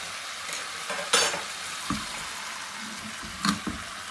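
Tandoori chicken frying in a covered pan on a gas stove, a steady soft sizzle broken by a few sharp clatters and stirring scrapes, close and moderately loud with no talking.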